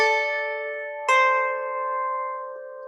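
Two plucked lyre strings, A and then C, each a clear ringing note that decays slowly, the second entering about a second after the first, quiet and alone.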